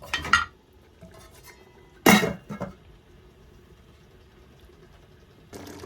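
A lid clanks onto a metal pot of chicken biryani in a home kitchen, two sharp metallic clinks with brief rattles, then quiet, and another soft knock at the end.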